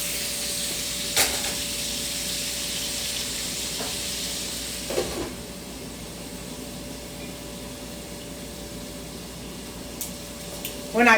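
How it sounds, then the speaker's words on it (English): Food pan-frying during keto meal prep, giving a steady close hiss and sizzle that runs throughout, with a few brief clinks and bumps from the pan. "All right, so I'm gonna fry those."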